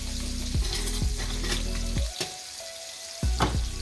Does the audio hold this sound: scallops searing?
yes